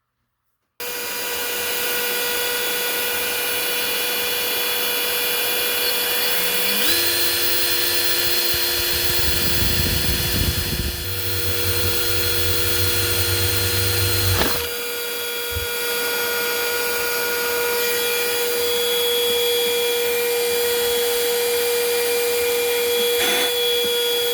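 A small handheld vacuum whirs steadily throughout while a drill bites into a plastic laser printer toner cartridge in short bursts; no one speaks.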